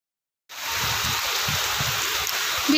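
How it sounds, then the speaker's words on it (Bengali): Rain falls steadily outdoors during a storm, a continuous close hiss of water that starts abruptly and holds at an even level. "বৃষ্টির শব্দ শুনতে পাচ্ছেন?"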